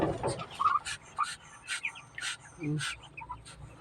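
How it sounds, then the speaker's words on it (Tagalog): Newly hatched ducklings peeping in a brooder setting, with repeated high, thin chirps in quick bursts close by, and a person talking softly among them. "lima na mga kapato lumabas na mga sisiw natin"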